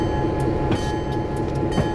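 A freight train in Train Simulator 2013, on an American Pennsylvania route, rolls along with a steady, loud rumble and light rhythmic clicks from the rails.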